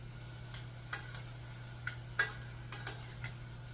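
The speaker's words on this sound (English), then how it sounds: "we cook our vegetables until they're translucent or tender" Vegetables for a marinara sauce cook in a pan with a faint, steady sizzle and occasional sharp stirring scrapes and clicks, with no talking.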